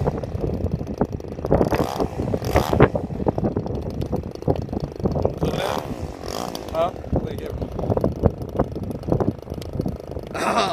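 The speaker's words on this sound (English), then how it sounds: "Oh wow, that was a pretty takeoff, sir." A Yak-52 aircraft taxis and takes off, its engine droning steadily with rising and falling bursts, partly buffeted by wind on the microphone while people talk over it.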